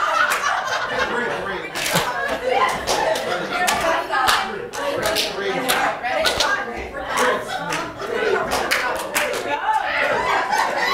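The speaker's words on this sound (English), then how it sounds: "Now it's clap a stomp and three." Audience clapping and stomping together in a repeating rhythm, loud sharp claps and thuds in regular groups with scattered voices and laughter in the room.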